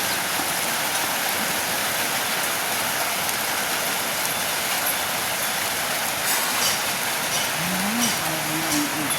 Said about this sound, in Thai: ฝนตกพี่น้องเนาะ